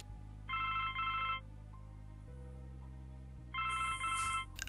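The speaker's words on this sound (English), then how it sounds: "It's just a telephone." A telephone rings in The Blackwell Legacy video game, two clear electronic ring bursts separated by a pause, set over a steady low game music drone.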